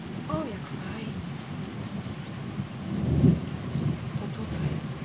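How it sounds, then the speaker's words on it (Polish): A summer thunderstorm rumbles with a low rolling peal of thunder swelling midway over steady rain, birds chirping faintly and a voice speaking briefly near the start. "Fajne uczucie grzmoty burzy i delikatny, słodki śpiew ptaków"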